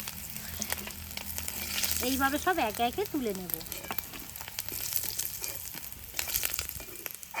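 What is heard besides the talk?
kuche fish (eel) frying in oil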